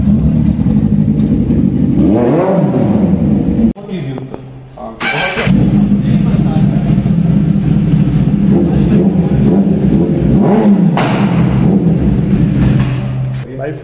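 Superbikes arriving at an evening bike event rev their engines loudly and close by, with throttle blips and passing roars rising and falling over the crowd, while people talk in the background.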